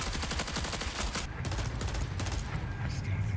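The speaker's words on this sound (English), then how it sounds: "The guns they have currently all look good, they feel good, and boy, do they sound good." Video game guns firing in rapid bursts, dense overlapping shots and automatic fire that stay loud and continuous throughout, with a busy layer of game effects under them.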